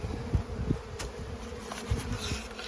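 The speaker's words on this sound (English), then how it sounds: "Looks like there's a lot of bees in this one." A steady, close buzz of many honey bees swarms around an open two-story hive colony, with a few soft thumps beneath the drone.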